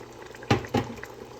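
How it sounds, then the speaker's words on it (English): Thick passata poured into a pan of salt cod for baccalà alla ghiotta, arriving as two short, soft liquid splats in quick succession over a quiet kitchen background. "We're going to add more passata."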